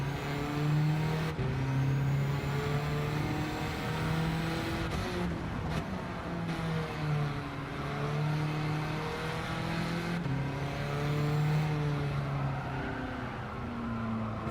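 Racing car engine in a sim racing game, held at a steady loud drone with rising and falling revs through gear changes and corners, continuous for the whole stretch with no talk.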